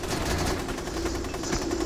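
Rapid, unbroken gunfire rattles in a video game, dense bursts of shots hammering continuously at close range with no pause.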